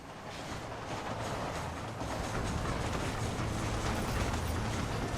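A steam train running in Red Dead Redemption, a dense rumbling roar of wheels and machinery with faint clattering, loud and continuous throughout with no speech.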